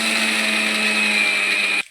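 Kitchen mixer grinder whirring steadily as it grinds peanut chutney for ragi dosa, a loud continuous motor hum with a high whine that cuts off abruptly near the end.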